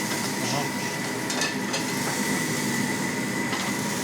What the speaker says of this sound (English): ahora va a echar el agua